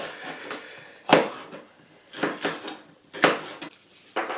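A knife chops vegetables on a board in a few separate sharp strokes, close and clear, with quiet pauses between them.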